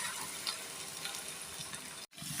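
Spinach, onion and green chilli fry in a pan with cracked eggs for a Telugu-style palakura egg fry: a soft, steady sizzle with light stirring scrapes, quiet and close, cut by one brief silent gap near the end.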